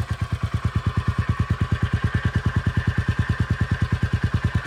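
Close, steady idle from a Royal Enfield Meteor 350 exhaust: a rapid, regular stream of low, even thumps from the single-cylinder motorcycle, with nothing else over it.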